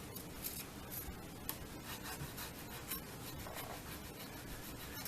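Fine-grit sandpaper rubs a guitar nut in quick, steady back-and-forth strokes, a close, soft rasping scrub with no talk over it.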